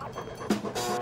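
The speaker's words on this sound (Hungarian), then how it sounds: "A vakvezető kutyával, amit itt hagyott." A guide dog gives a couple of short, sharp barks close by, with a brief gap between them, in a Hungarian-dubbed episode of The A-Team.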